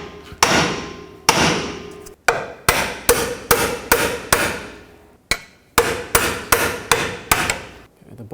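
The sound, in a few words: hammer and pry bar driving strut fork bushing into place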